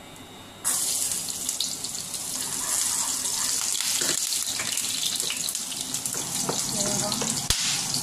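Garlic dropped into hot cooking oil in a pan for Filipino ginisang munggo, a sudden loud hissing sizzle that starts after a brief quiet moment and stays steady and close for several seconds.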